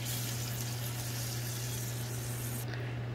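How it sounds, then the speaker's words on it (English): Cooked shrimp and their juices tip back into a hot pan, producing a steady wet sizzle and splashing hiss that cuts off sharply near the end, over a constant low hum, with no speech. "Pour all your shrimp and all its juices back in."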